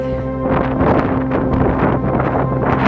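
Strong wind buffets the microphone in continuous loud gusts in a valley, with a low steady engine hum underneath.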